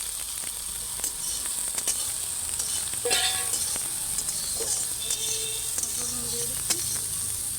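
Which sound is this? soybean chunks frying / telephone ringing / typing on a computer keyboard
soybean chunks frying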